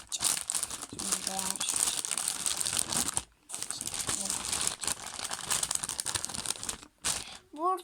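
A teacher's gift package being unwrapped by hand: loud, close paper crinkling and rustling that comes in bursts with a couple of short pauses, and a voice heard briefly.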